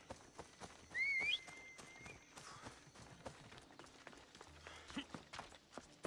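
Hooves of a horse in Assassin's Creed Odyssey gallop in a quick, uneven clip-clop under game ambience, with a short whistle near the start.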